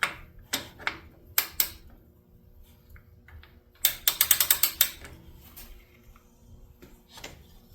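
Ratchet clicks removing the engine belt on a 1987 Chevy S10 with an Iron Duke engine, short bursts of sharp ticking with a fast run in the middle, close by, with pauses between strokes.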